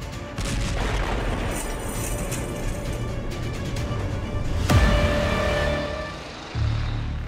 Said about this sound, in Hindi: हमले से पहले आसमान में जेट विमानों की गड़गड़ाहट और फिर कुछ ही सेकंड बाद यहां हुआ जोरदार धमाका